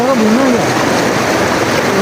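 Fast-flowing flood water of the Sutlej river, a loud broad steady rush close by, with a voice speaking briefly over it at the start.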